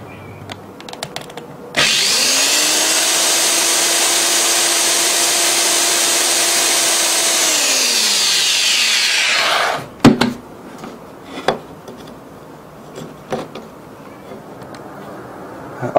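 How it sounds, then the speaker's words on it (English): A power drill bores a small 1–2 mm hole into a piece of metal, a loud steady high whine held for about eight seconds before winding down, followed by scattered clicks and knocks. "Now I'm going to drill a small hole right here, about 1 or 2 millimeters"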